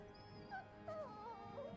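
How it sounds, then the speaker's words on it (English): A dog in Final Fantasy XVI whimpers in a few soft, high, wavering whines, close and fairly quiet over a low game ambience. "The dog is adorable."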